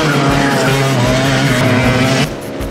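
Racing karts, 100cc and 125cc tag classes, run on a track at a kart racing school, producing a loud, continuous buzzing engine drone with shifting pitch and tire scrub that drops slightly in level near the end.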